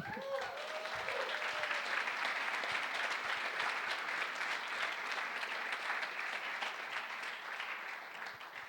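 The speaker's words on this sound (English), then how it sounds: "Now it's time to give the applause." Audience applause at a closing ceremony, a sustained, even roar of many people clapping heard from within the crowd, fairly soft overall and carrying on for several seconds after a short opening voice.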